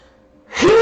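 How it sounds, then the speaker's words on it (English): A single sneeze from a person: a short quiet intake followed by a loud, abrupt burst of breath. "Yeah, that was a sneeze."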